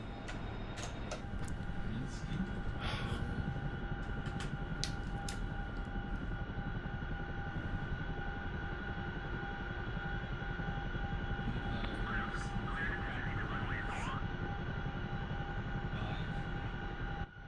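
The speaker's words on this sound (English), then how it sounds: "Can you hear the plane?" A plane in DCS World drones as a constant, fairly loud engine hum with faint higher tones, while brief voices and clicks cut in over it.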